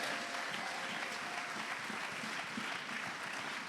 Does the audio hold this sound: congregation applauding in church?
yes